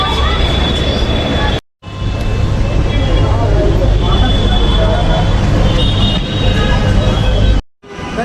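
Inside a moving metro train: a steady, loud rumble and hiss of the carriage throughout, with faint background voices and two brief cuts to silence.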